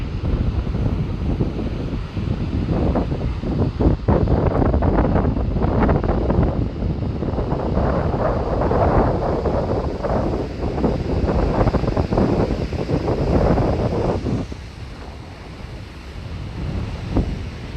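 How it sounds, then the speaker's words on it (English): Bigger ocean waves roll and crash continuously at high tide along the Moonstone Beach shoreline, a loud, steady surf wash with surging swells and wind buffeting the microphone, no voices. "it's high tide and we've got some bigger waves"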